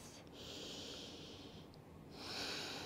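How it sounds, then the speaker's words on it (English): Slow, deep breaths during a vinyasa yoga practice: two long, airy inhales or exhales close to the mic, separated by a short pause, with a soft steady hiss underneath. "We'll be here for the next 3 to 4 slow, deep breaths."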